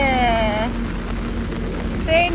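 Steady rain falls around someone walking outdoors in Canada, a continuous hiss close by with a faint background rumble, while a brief voice sounds at the start and again near the end.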